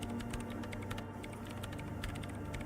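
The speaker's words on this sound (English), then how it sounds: "Her hands typing hundreds of commands into the machine" Rapid, steady keyboard typing from Disco Elysium, many close keystrokes clattering in a dense continuous run with no pauses, moderately quiet and without speech.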